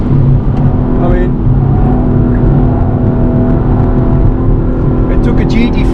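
A rear-wheel-drive car held at full throttle near 240 km/h gives a steady, loud engine drone with road and wind roar, with a faint voice now and then underneath.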